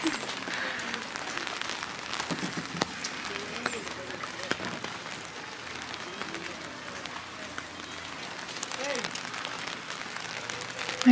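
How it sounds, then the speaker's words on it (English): Rain falls steadily at a lake in Guatemala, a dense, even hiss of drops with occasional sharper taps and no voices. "it's currently raining and cloudy"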